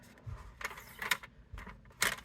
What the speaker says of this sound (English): Then I'm going to score it at 1 inch.